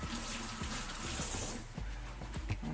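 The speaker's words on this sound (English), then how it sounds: "We'll go ahead and we'll wash them. Give them a quick rinse." Plum tomatoes rinsed under a running kitchen tap for a quick wash, a steady close splashing stream of water with no talk over it.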